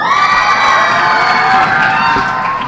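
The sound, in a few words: crowd cheering and shouting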